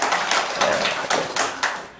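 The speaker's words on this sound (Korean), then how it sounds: "그럼 박수 치려면 화끈하게 쳐봐" A church congregation claps in a quick burst of several sharp, close, loud hand claps, alone without talk.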